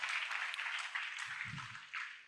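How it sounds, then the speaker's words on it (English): Applause from an audience at an international seminar for the speakers, a dense, steady patter of many hands held at moderate distance for the whole stretch, with a brief low murmur of voices partway through. "please give a warm applause to our speakers here today"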